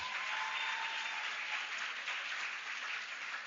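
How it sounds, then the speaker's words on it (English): Steady, even applause from the audience at the African Science Academy graduation for the graduating class, a thick continuous patter of many hands heard at a moderate distance. "Applause for the graduating class."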